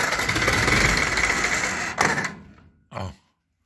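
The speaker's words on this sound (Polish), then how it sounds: "tak rozrusznik pracuje i tak miał pracować, i tak powinien pracować" A car's starter motor cranks the engine with the starter wire bridged by a screwdriver, giving a steady rapid whirring for about two seconds, then a sharp stop and a short second burst after a pause.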